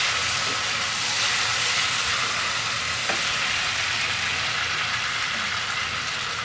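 Shrimp frying in a pan for a Bengali shrimp and okra chorchori, a steady loud hiss of sizzling oil that runs unbroken throughout, with a few faint clinks and no voices.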